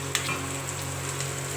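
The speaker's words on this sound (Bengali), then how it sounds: "এবার আমি একটু জল দিয়ে দেব" Water added to fried spice paste in a pan for a pabda fish curry: a brief splash, then a steady bright sizzle and bubbling hiss that holds evenly, close by, with no talk.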